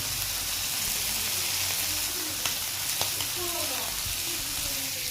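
Small fish fry in a pan with a dense, continuous sizzling hiss and occasional spatters, while a voice talks faintly underneath.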